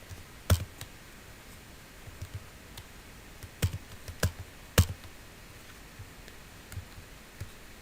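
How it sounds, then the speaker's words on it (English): Computer keyboard keys pressed in a few sparse, faint clicks with pauses between them, heard alone in a quiet room. "there is a key combination, Ctrl M if you click it."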